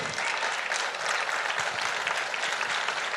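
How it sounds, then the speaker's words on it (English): An audience claps steadily at a ceremony for a chip factory in Arizona, a full, even wash of applause lasting a few seconds with no speech. "And you can clap for that."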